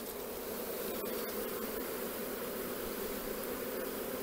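Honeybees humming steadily around an open nucleus hive at evening, a continuous close, even drone with faint shuffling and small ticks over it.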